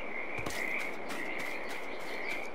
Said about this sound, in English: Sweet! Frogs!